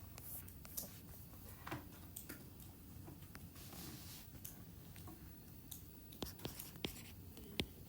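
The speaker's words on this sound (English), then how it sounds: "So I'm going to write that on my table." A pen scratches and taps on paper while a statistics table is filled in, faint and close, with soft strokes and ticks over low room noise and quiet speech.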